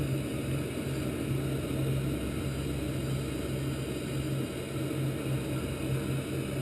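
Steady droning engine and propeller hum of a Twin Otter aircraft taxiing in a flight simulator game, a constant loud broadband roar with a faint steady tone and no talk.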